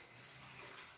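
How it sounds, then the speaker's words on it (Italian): Boiling water is poured over Senatore Cappelli durum wheat pasta in a jar, making a soft, continuous rushing trickle that stays steady and fairly faint from start to finish, with no talking. "Poi aggiungo dell'acqua bollente"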